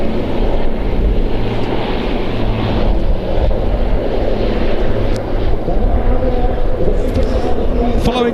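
Viper and Venom military helicopters in Czech service flying at an air show, a loud, steady, close rumble mixed with wind buffeting on the microphone and a commentator's voice over it.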